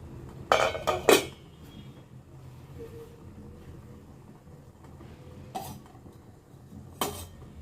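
A metal lid comes off a cooking pot of jaggery junnu milk pudding with two sharp clanks close by, followed by a quieter stretch and two more brief metallic clicks.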